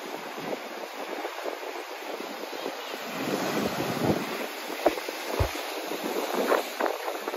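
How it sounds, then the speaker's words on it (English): Strong wind buffets the microphone outdoors at Ambleside Park by the water, a continuous roaring rush with gusty surges and a few sharp thumps. "it's so windy."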